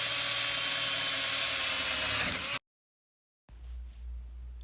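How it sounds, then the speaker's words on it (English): Wire wheel power tool grinding down a metal panel, a steady loud whine with high harmonics for about two and a half seconds, then a cut to silence and a duller, fainter hum. "Now I'm using a wire wheel here instead of a razor"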